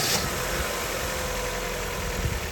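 A Daewoo Tacuma 2-litre petrol engine, freshly fitted with new spark plugs, idles with a steady, even hum and broadband rumble, close by and unchanging throughout.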